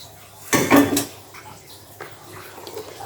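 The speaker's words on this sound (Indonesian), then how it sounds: "kita lanjut aduk lagi" A batter of rice flour and sugar being stirred in a bowl, with a loud burst of wet clattering and sloshing followed by quieter intermittent scrapes and splashes.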